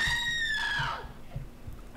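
A high, wavering scream in the MayDay: Crockpot Cinema video game rings out loud for about a second and then slides down and fades, followed by low, steady throbbing thumps.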